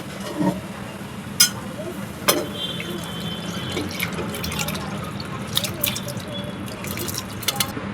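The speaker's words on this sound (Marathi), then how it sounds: "थोडस थोडंसं मी पाणी घालत आहे" Water trickles and drips as it is poured little by little into a simmering Malvani-style chicken rassa, soft splashes and occasional sharper drops over a low background hum.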